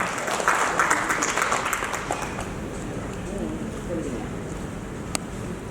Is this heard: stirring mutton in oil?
no